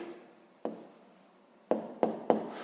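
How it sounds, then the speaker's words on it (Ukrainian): A pen writing out an answer by hand on paper, with a soft continuous scratch broken by four sharp taps or strokes, close and quiet, with no talk. "Пишемо відповідь."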